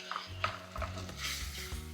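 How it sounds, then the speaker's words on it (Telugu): Onion paste frying in hot oil in a pan for a flat bean curry gives a short burst of sizzling, with stirring and a few clinks of a utensil against the pan, close up and with no speech. "మిక్సీ పట్టుకున్న ఉల్లిపాయ పేస్ట్ కూడా వేసేసుకోండి"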